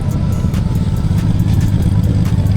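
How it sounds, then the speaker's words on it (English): A 2003 Honda Valkyrie motorcycle engine runs loud and close with a steady deep rumble and a fast, even pulsing throb, holding a high idle throughout with no voices. "Well, that bike sounds pretty good from here too."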